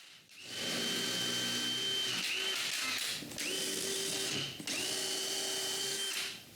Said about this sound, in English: I drill holes that will help me align all the pieces together